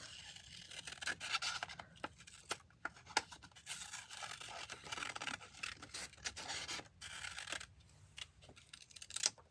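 Scissors snipping through a magazine image for a collage, a series of sharp, quiet cuts in irregular rhythm with paper rustling and rubbing between them, close by.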